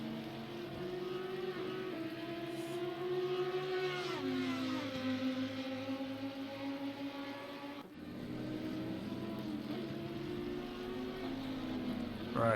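Race cars in a racing video game at the Kyalami circuit drone continuously with whining engine tones that dip through a corner and climb again as they accelerate, steady and prominent throughout.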